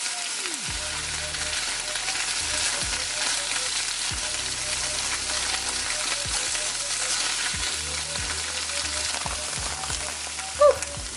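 Tofu pieces sizzle and crackle steadily in a hot pan, a dense continuous frying hiss with occasional pops and light scraping or stirring knocks underneath.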